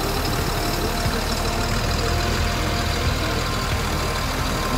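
A truck-mounted crane is worked by remote control as its lever raises the boom, giving a steady, continuous engine and hydraulic drone at close range with no talk.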